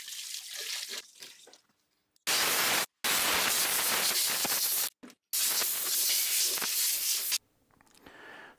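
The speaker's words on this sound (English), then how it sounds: "Then I rinse them with water and dry them with the compressor." Loud bursts of compressed air blast over Swiss Army knives to dry them after rinsing, coming in several long, hissing blows separated by brief pauses, with quieter handling noise before and after.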